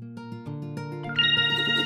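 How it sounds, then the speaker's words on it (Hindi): A boss's mobile phone rings with a bright electronic ringtone, repeating rhythmic tonal pulses that build into a higher sustained melody, close and clear with no voices. "कुछ देर बाद बॉस का मोबाइल बजा।"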